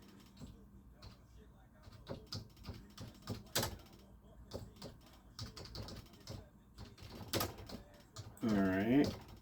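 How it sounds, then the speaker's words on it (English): Computer keyboard keys tapped in short irregular bursts while a card name is entered, close and moderately loud, with a voice speaking briefly near the end. "Gotta type in this name."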